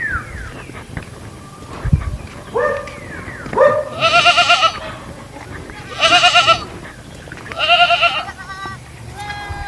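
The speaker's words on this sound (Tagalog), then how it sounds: "palakat ng kambing na yun." Several loud, quavering goat bleats ring out close by, preceded by a few shorter rising calls and a thump, over light background noise.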